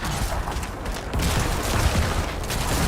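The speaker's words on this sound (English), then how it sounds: "I love that corpse explosion pop." Corpse explosions pop in Diablo 4 during group endgame combat, a dense, continuous barrage of rapid booming pops layered over loud game noise, with no voices.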